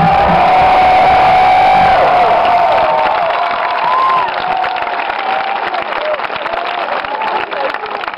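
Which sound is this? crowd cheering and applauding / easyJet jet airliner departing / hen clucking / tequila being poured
crowd cheering and applauding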